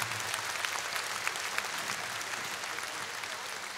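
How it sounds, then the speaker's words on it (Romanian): A concert audience at the Palace Hall in Bucharest applauds a large family of lăutari musicians, a continuous, fairly distant wash of many hands clapping with a few sharper claps standing out. "Aplauze pentru această mare familie și frumoasă."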